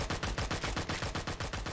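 Rapid automatic gunfire in the Vietnam War shooter Vietcong, a steady burst of evenly spaced, punchy shots rattling continuously at close range with no talk over it.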